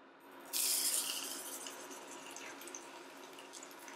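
Pork chops dropped into hot oil in a pan set off a sudden loud sizzle that bursts in and then settles into a steady, softer crackling hiss.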